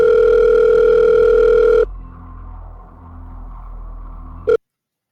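A loud, steady telephone dial tone drones in a horror video game, cuts off abruptly after about two seconds into a low hum, then ends with a brief click.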